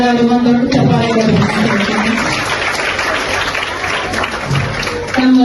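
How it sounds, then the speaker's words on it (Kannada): An audience at a primary school annual function applauds the teachers, a dense, sustained wash of clapping that runs steadily for several seconds at close range. "ಅವ್ರಿಗೆ ಒಂದ್ ದೊಡ್ಡ ಚಪ್ಪಾಳೆ."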